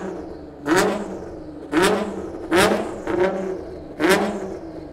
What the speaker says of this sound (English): have a listen to the exhaust. Right, so the valves are closed at the moment. So I'm gonna open up the valves.